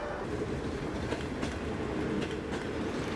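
A train runs steadily on rails with a continuous dense rumble and faint rhythmic wheel clicks, even and loud throughout, with no voices.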